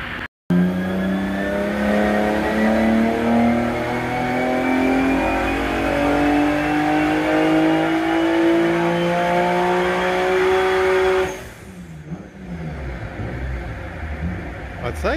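A tuned Nissan March engine revs hard on a dyno, a loud, continuous rising roar that climbs steadily in pitch for about eleven seconds before cutting off abruptly into a lower, rougher idle.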